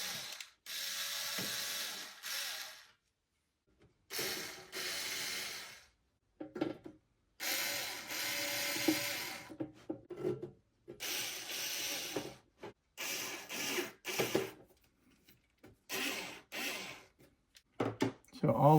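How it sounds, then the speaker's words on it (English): Screws are driven loosely into the control board of a FoxAlien XE Pro 8040 CNC router with a ratcheting driver, giving close bursts of rapid clicking separated by brief pauses. "I'm going to put in all of the screws loosely,"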